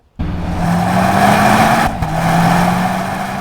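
A 2026 BMW M5 Touring's twin-turbo V8 roars to life and revs hard, climbing in pitch, then drops briefly as it shifts before pulling steadily again.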